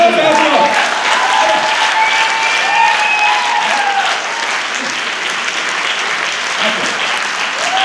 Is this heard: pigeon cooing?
no